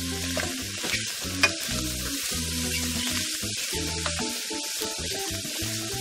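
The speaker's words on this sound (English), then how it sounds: "You're going to let the onions get a little translucent" Onions sizzling in a pan for beef stroganoff, a steady close crackle and fizz with occasional utensil scrapes and one sharp clink, with no talking.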